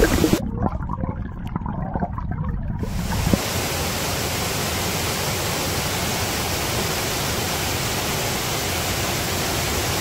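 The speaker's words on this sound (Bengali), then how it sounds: "তো এই ঝর্ণাটা ঠিক এভাবে যাইতে যাইতে একটু বিপজ্জনক, ওখান দিয়ে নিচে নেমে গেছে।" A mountain waterfall in Haute-Savoie pours down in a steady, even rush of broadband water noise that fills the scene after a brief quieter opening.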